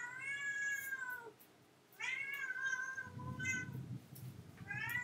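A cat meows loudly several times indoors, in drawn-out, wavering calls with short gaps between them.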